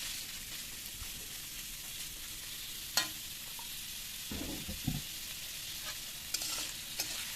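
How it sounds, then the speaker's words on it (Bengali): Onions fry in oil for a meat curry, giving a soft, fairly faint sizzle with occasional stirring knocks and scrapes against the pan and no speech. "পেঁয়াজটা আমি লাল লাল করে একটু ভেজে নেব এখন"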